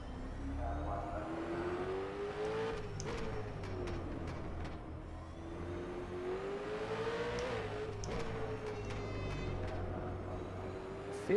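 A V8 Supercar engine in the rFactor 2 racing sim revs and shifts continuously, its pitch climbing through the gears and dropping on downshifts, loud and close without a break, with no talking.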